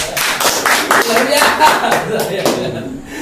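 An audience claps together at a youth rice-donation movement event, a brief burst of many hands with voices mixed in, fading out near the end.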